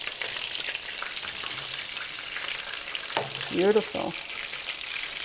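Meatballs fry and brown in a pan of their own rendered oil, giving a steady close crackling sizzle throughout, with a brief word spoken near the end.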